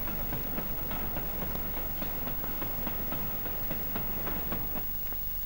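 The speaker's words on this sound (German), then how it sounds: "Aber nur wenige Züge fahren." Crowded trains running in 1945 Germany, so packed that passengers ride on roofs and running boards; a steady dense rumble with repeating rail clicks and clatter continues throughout, with no voices.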